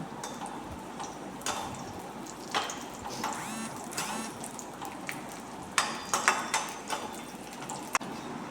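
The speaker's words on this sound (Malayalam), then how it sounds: "നമുക്ക് ഇതിലേക്ക് മുന്തിരി ഇട്ട് വറുത്ത് കോരി എടുക്കാം" Raisins crackle and pop in hot ghee, with a steady sizzle broken by sharp snaps and clicks, close up and without talk.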